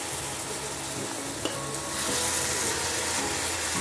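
Ground pork with soy sauce, liquid seasoning and oyster sauce stirred in a pan, a continuous close sizzle with soft scraping strokes that grows denser and louder halfway through, no voices.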